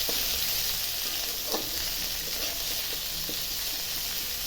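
Onions fry in hot cumin-tempered oil, a dense steady sizzle close by, broken by a few soft scrapes of stirring; no one speaks.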